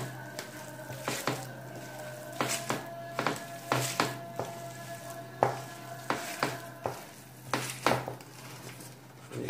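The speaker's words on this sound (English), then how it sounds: "How long are you going to mix that for?" Oil is worked by hand into Turkish kısır bulgur salad in a bowl, producing rhythmic wet squelching and slapping pulses about once a second over a constant background hum.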